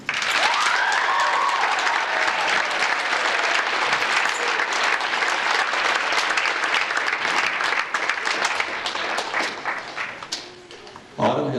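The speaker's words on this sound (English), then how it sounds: "I'd just like to have you people give a round of applause for Autumn O'Brien." Loud, dense audience applause at a choir concert on senior night in an old school gym, sustained for several seconds before thinning out, with a brief whoop or cheer near the start and a final burst at the end.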